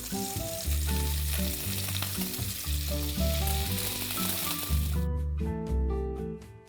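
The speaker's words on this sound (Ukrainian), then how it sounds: "на пательню викладаємо вершкове масло і даємо йому розтопитися. Перекладаємо горошок." Green peas sizzle in melted butter in a frying pan for an Italian tagliatelle sauce, a dense continuous hiss and crackle heard close up. Music plays underneath, then the sizzle drops away near the end while the music carries on.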